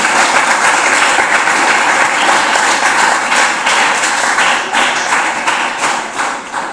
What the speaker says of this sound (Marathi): आपण त्यांच्या गौरवाखातर या ठिकाणी टाळ्यांचा जयघोष करूया